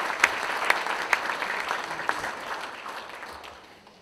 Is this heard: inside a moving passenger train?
no